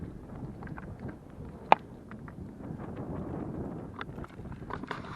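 Steady wind rumbles and buffets the microphone outdoors on the hilltop of High Spy, a continuous low roar with one sharp knock partway through.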